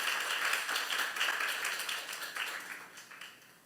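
Congregation clapping inside a church during a youth service sermon, a steady wash of many hands sustained throughout and slowly thinning toward the end.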